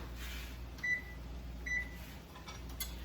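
Two short electronic beeps from an oven control panel as the oven is switched on in a home kitchen, spaced under a second apart over a steady low room hum.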